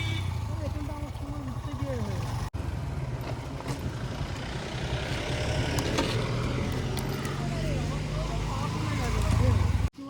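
A car climbs a steep hill road on the way to Daringbadi, with the clutch fully released and the accelerator held: a steady, loud engine drone runs throughout, beneath people talking inside the vehicle.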